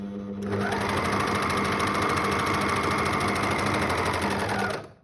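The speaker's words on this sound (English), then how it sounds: "I'm just going to sew to the next pin" A sewing machine runs in one steady, continuous burst for about four seconds while stitching elastic into a pair of basic pants, then stops. The motor hum and rapid needle rattle are close and loud, with no talking.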